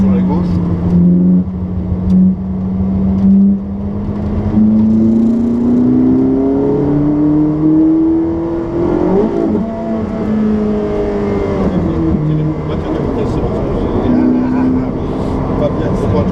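A Ferrari 458 Speciale on a race track revs up under acceleration, then the pitch falls as it brakes and downshifts, with a blipped rise near the end; an instructor's voice is heard over the loud, close engine.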